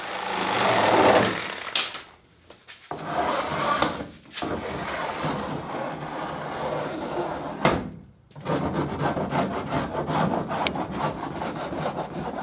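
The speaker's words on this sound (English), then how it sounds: "filing the edges to make sure they were even and smooth" Cut edges of a Jeep JK fender are worked with a file in repeated rasping strokes, coarse scraping bursts separated by short pauses, up close with no talk.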